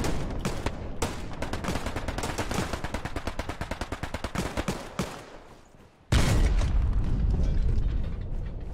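Sustained machine gun fire in the WW2 shooter Hell Let Loose: a rapid, steady stream of close, loud bursts that fades out, then one heavy blast booms suddenly and lingers.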